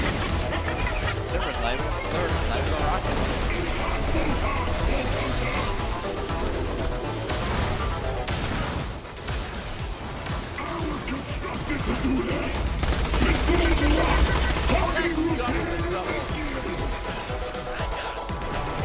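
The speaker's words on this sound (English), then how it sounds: "they're just flying rockets" Rockets and gunfire in the video game Borderlands The Pre-Sequel crash and rattle in dense, overlapping bursts of explosions and shots, loud and chaotic throughout, with bursts of speech mixed in.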